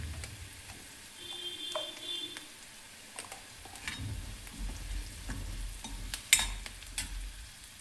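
Onions frying in a pan as asafoetida is added while preparing matki usal, a soft steady sizzle with scattered scraping stir strokes and a sharper clink near the end, close and moderately quiet with no talk.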